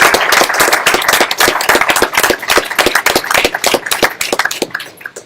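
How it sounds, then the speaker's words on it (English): Applause for a team at a hackathon finale and presentations: loud, close clapping with sharp individual claps standing out, lasting about five seconds and thinning toward the end. "I actually would like to give a round of applause to the team."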